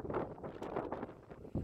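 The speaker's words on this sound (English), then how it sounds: "Sorry about the wind if it's windy." Low, irregular rumbling gusts of wind buffeting the microphone at a freezing cold dig on an old church site, steady throughout with a louder blast near the end.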